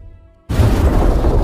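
A bomb explosion in the film Arrival bursts in suddenly after a quiet moment, a loud, dense roar that continues to the end.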